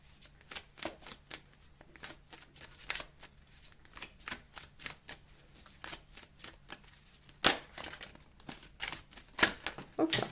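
Tarot cards being shuffled up close, a long run of quick riffles and soft flicks with sharper snaps now and then, fairly quiet, with no talking.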